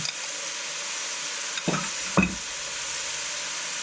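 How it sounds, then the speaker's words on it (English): Steady, loud sizzling of pork cheeks in a heavy pan fills the whole stretch, broken by a couple of brief clunks, with no talking. "if you can hear me over the sizzling"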